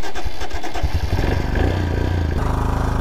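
A motorcycle loaded with luggage for a trip to Ladakh pulls away, its engine revving loud and close and settling into a steady, rhythmic throb as it moves off. No one speaks.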